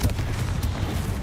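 A Confringo blasting spell bursts in Hogwarts Legacy, a heavy low rumbling boom that fills the whole moment at steady loudness, with no voices over it.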